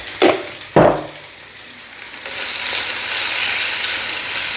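Black pepper fries in a pan. Two sharp knocks come first, then a steady, close sizzle that builds and holds to the end.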